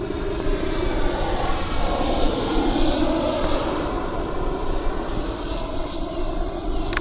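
A FMS Avanti S 90mm electric ducted-fan RC jet flies past with its retracts deployed, giving a steady, loud, broadband whoosh with a high whine that holds for several seconds without pause.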